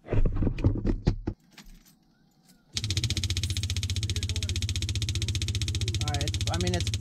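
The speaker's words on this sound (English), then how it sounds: "We're going to try to pump from the tank and see what happens." A pump switches on and runs at a steady, buzzing drone while pulling from a broken motor home's tank, following a jangle of handling noise and a short quiet pause, with a voice briefly heard over the hum near the end.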